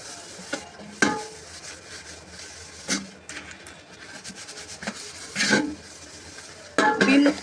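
A brass and copper pot is scrubbed with Vim and a scrubber, giving quiet gritty rubbing with a few sharper scraping strokes spaced irregularly, close up and faint.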